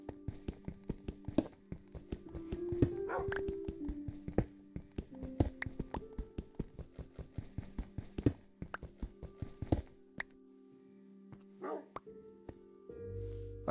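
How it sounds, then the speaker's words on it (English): Dog barking in the video game Minecraft, a run of short sharp yips and barks repeating in quick bursts over a steady tonal game backdrop, with no talking. "That dog is really lucky."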